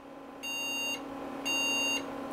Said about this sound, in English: So 3 slow beeps like that allegedly is a RAM error.